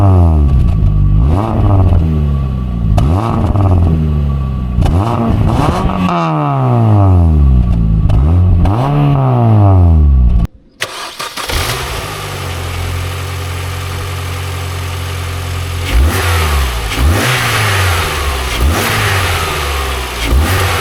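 A Mini Cooper R50 engine revs in rising and falling sweeps, cuts out briefly, then fires up and settles into a steady idle broken by a few more throttle blips, loud and close.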